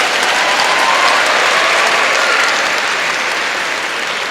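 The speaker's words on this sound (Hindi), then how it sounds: "एक बार ताली होनी चाहिए।" Loud, sustained applause from a large audience at an education function, dense steady clapping filling the whole stretch and easing slightly toward the end.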